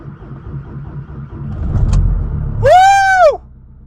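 Engine cranking of a VW Transporter T6 van being started in a workshop, a low rumbling churn that builds for a couple of seconds, then a rising and falling whine as it tries to catch before cutting out.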